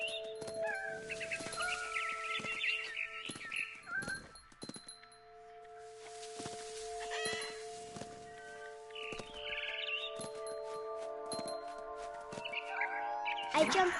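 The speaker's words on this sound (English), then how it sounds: "Then I heard chirping outside my window. It was a barn swallow going back to her nest." Barn swallow chirps from the video game What Remains of Edith Finch: brief, high twittering calls come in scattered bursts over sustained musical tones and soft ambient game sound, with a voice speaking at times.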